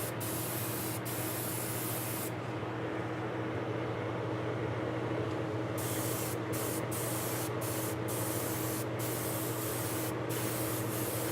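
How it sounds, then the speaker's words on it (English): An airbrush or spray gun hisses steadily while painting a model locomotive, a continuous close spray broken by a few short pauses and bursts near the end. "making sure that it sprays evenly"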